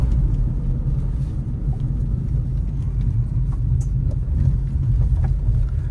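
A Tata Nexon iCNG car rolls over a broken road, giving a steady low rumble of tyres and suspension with faint knocks and rattles from inside the cabin.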